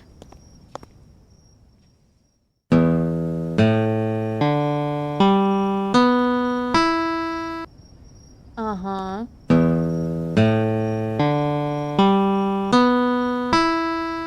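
Someone plucks guitar strings one at a time while tuning. About a dozen clear, ringing notes decay in a steady rhythm, with a short vocal interjection partway through.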